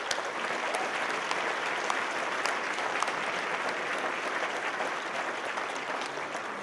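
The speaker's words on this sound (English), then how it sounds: "Let's hear a round of applause for Mel." Steady audience applause at the close of a debate on whether God exists, a dense, even wash of many hands clapping that stays loud and continuous throughout.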